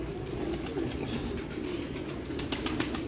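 Breeder pigeons in a loft give soft low coos and rustle with occasional wing flaps, set against a constant faint background hum, with no clear talk.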